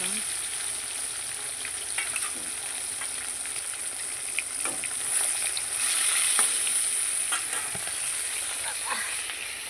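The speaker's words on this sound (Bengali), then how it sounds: "মাছটা ভাজা হচ্ছে।" Fish pieces frying in hot oil in a pan on a home balcony, a steady close sizzle with occasional light spatula taps, swelling slightly louder midway.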